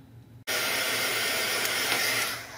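A hand-held hair dryer switches on abruptly and blows a steady, loud, close airy roar while drying damp painted clothing tags, running alone and easing slightly at the end.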